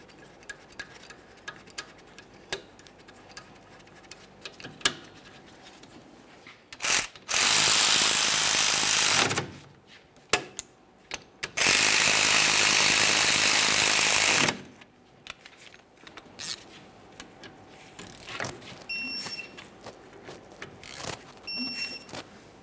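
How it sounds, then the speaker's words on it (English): Caliper slider mounting bolts on a 2007-2013 Acura MDX rear wheel are tightened with a ratchet, giving two long bursts of fast loud clicking amid scattered metallic clinks and handling noise. "Now we'll continue on with our 2 caliper slider mounting bolts. Start them in, snug them up."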